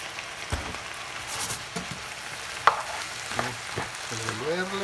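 Calabacitas (zucchini) sizzle in a pan while being stirred, with a steady frying hiss broken by several scraping strokes and a sharp clink, close and moderately loud, with no voices.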